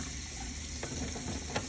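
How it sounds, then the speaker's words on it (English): Tap water running into a sink for hand washing, a faint steady hiss of flowing water with a few soft splashes, quiet and alone. "you're gonna get the water going,"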